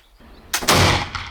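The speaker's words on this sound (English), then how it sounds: "Now we're gonna shoot a steel ball into the naked gelatin block and see if it goes through all the way." A Howdah flintlock pistol fires a steel ball into a bare gelatin block: one loud, sharp blast erupts after a brief quiet and rings out with a short decaying tail, followed by a fainter secondary thump.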